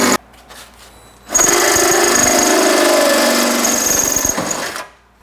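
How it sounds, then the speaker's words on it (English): A power drill bores a 3/8-inch hole through Jeep body metal, a loud close whine with grinding that holds steady for about three seconds before cutting off, with quieter handling noise before and after. "Now that the 1/4-inch pilot holes are drilled, we're going to step it up to 3/8 so we can insert the nutserts."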